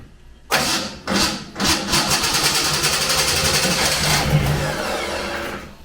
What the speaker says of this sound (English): We went ahead and turned that key forward. The motor turned over.